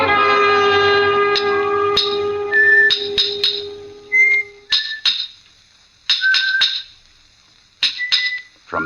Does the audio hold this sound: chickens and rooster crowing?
no